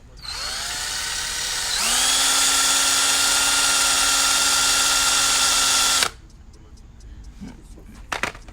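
A power sander whirs at high speed on a Mk4 TDI headlight lens for several seconds, rising in pitch as it spins up, then cuts off, leaving quiet handling clatter.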